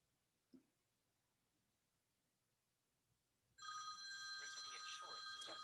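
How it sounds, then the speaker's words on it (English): A telephone rings suddenly after near silence, a loud continuous trilling ring that fills the last two seconds, preceded by a single brief bump. "I need to take a phone call."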